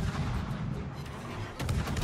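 Destroyer guns fire in the naval combat game World of Warships, heavy booming blasts rumbling low and close with a sharper report near the end and no talking.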